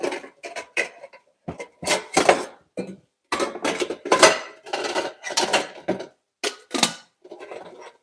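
Pots and pans clattering while a pan is grabbed in a home kitchen, a series of irregular metallic clanks and knocks in quick bursts, close and fairly loud, with short gaps between.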